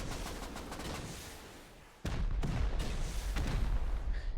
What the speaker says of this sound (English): There comes the barrage.